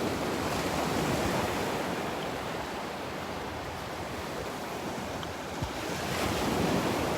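Ocean waves wash steadily onto a beach in North Naples, Florida, a broad continuous surf roar mixed with wind buffeting the microphone, with no one speaking.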